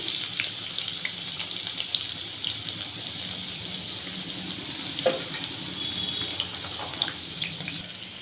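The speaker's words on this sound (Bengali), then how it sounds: "একটা গোটা বড় সাইজের পেঁয়াজ নিয়েছি আর ওই তেলের মধ্যে গরম তেলের মধ্যে দিয়ে দিলাম" A whole large onion fries in hot oil for birista, giving a steady, bright sizzle and crackle that runs unbroken throughout at moderate level, with a few faint clinks.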